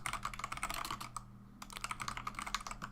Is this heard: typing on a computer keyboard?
yes